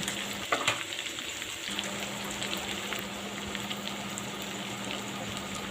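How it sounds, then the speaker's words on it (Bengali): Chopped onion, garlic and four green chillies are poured together into a pot and given a light stir. A soft, even sizzle follows, with a brief clatter near the start and a faint steady hum underneath. "সবগুলো একসাথে ঢেলে দিলাম দিয়ে হালকা নাড়াচাড়া করে আমি আবার ডাকনা দিয়ে ডেকে দেব"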